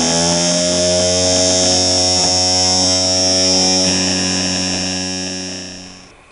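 Simple reed switch electric motor spinning at high speed, a loud steady whining buzz with strong hum that holds constant and then fades toward the end.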